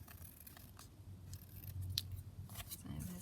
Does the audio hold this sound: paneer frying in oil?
no